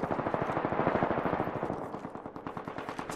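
Rapid automatic gunfire from a bamboo assault rifle in a shooter video game, a loud, fast rattling burst of evenly spaced shots that runs continuously for a few seconds.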